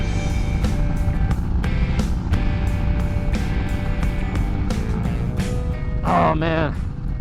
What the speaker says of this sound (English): the bike shifts so well after that clutch adjustment and the new oil we put in